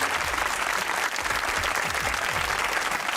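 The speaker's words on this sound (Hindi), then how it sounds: "तालियां हो जाओ" A studio audience at a comedy talk show claps loudly and continuously from start to end, with no one speaking over it.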